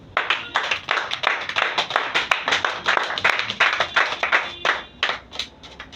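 A church congregation claps in a steady, fast rhythm, many hands together, loud and close, with a few faint voices mixed in and no clear speech.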